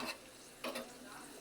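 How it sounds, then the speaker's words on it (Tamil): Cashews and raisins frying in a pan while a pongal is being made, a soft steady sizzle with brief stirring scrapes near the middle and end, quiet and close, with no voices. "முந்திரி திராட்சை வறுத்தது அது எல்லாமே போட்டாச்சு"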